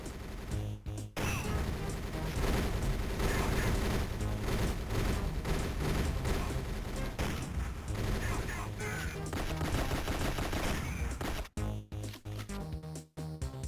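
Dense, continuous gunfire with crashes and impacts from the Nintendo DS game GoldenEye: Rogue Agent, loud and sustained for most of the stretch before dropping out near the end.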